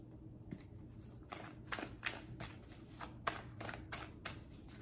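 A deck of tarot cards being shuffled by hand, a series of soft riffling and slapping bursts at a steady pace, close and fairly quiet over a low background hum.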